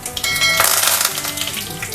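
Curry leaves hit hot oil with a sudden burst of crackling sizzle that swells then settles into lively spitting, close up and brief, with no one speaking.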